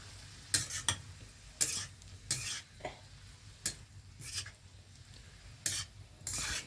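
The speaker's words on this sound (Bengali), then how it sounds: "সমস্ত শাক দিয়ে নাড়িয়ে চাড়িয়ে নেব, সিদ্ধ হওয়া পর্যন্ত সুন্দর জাল দিয়ে নেবো বন্ধুরা" Mixed leafy greens stirred in a frying pan, with scraping, rasping strokes against the pan coming in irregular bursts over a faint sizzle, close and fairly quiet with no talk.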